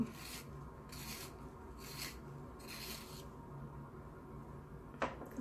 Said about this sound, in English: I am going to try to sharpen it real quick.